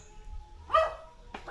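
A few short, fairly faint dog barks come from dogs near a resort, with two brief yips separated by a pause against quiet background noise.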